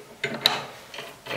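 Clamps on a common rail injector clamping device are released in a brief burst of close mechanical ratcheting clicks, a couple of quick metallic snaps followed by a softer rattle.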